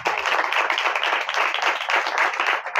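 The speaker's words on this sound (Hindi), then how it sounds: "जोरदार तालियां बजाएं।" A church congregation at a Mother's Day gathering claps hard on cue, a dense, loud burst of clapping that keeps up without pause.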